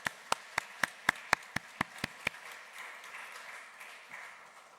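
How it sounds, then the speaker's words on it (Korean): A congregation at an evening church service in Korea claps about ten times in a steady, fairly loud rhythm. Faint room murmur lingers after the clapping stops. "그 하나님 앞에 우리 영광의 박수 올려드리겠습니다"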